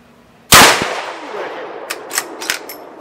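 A single loud, close rifle shot from a .450 Bushmaster, fired outdoors into a target, with a sharp crack and a long decaying echo, followed by a few faint clicks and knocks.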